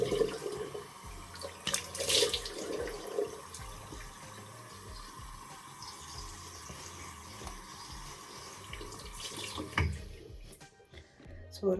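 Tap water runs into a sink during face washing, a soft continuous flow with occasional splashes and clatter, some bursts louder than others, and faint speech in the background.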